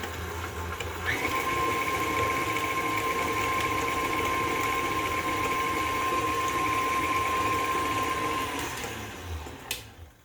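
Electric hand mixer beating an egg into creamed sugar and Crisco for whoopie pie batter, a steady loud motor whir with a constant tone running for about eight seconds before cutting off.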